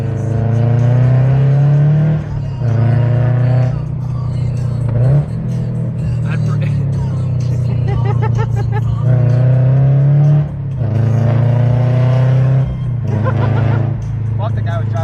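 A car accelerates hard through several gears. Each rising rev is loud and close and ends in a brief dip at the shift, and the engine drones underneath throughout.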